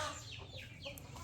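Aseel rooster clucking in soft, short bursts over a low, steady background rumble, close but fairly quiet, with no talking.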